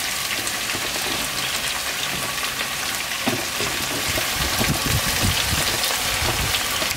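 Peppers, onion and leek sizzle steadily in a hot frying pan, a dense crackling hiss with scattered pops, close and continuous throughout with no talking.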